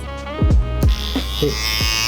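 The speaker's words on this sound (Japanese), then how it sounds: "耳の周りのこのラインもきれいにしたいときはこのまたシェーバーを使ってもらってやっていきます。" Electric shaver used by a barber to tidy the hairline around a customer's ear in a barbershop, a steady buzzing hum with a few short strokes and touches against the skin, heard close.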